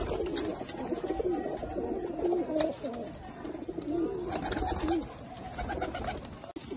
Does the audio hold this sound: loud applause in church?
no